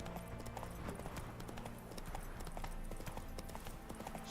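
Roach, the horse in the video game The Witcher 3, gallops with a quick, steady patter of hoofbeats that runs quietly and evenly from start to end.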